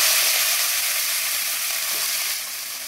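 Chopped chickpea greens, washed and cut, sizzle in hot oil with a steady, loud broadband hiss that eases slightly toward the end, no voices present.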